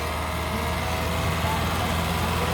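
A modified Ford 4-cylinder diesel tractor engine at a fair competition, a dense, steady engine roar running continuously alongside crowd noise and talk.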